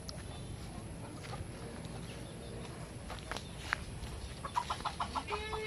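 Farm hens cluck and murmur at feeding time, soft scattered calls with a few sharper clucks and shuffling footsteps toward the end, fairly quiet and close.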